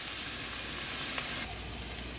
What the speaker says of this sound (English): Saute up my onions for a minute and then I'll add the celery in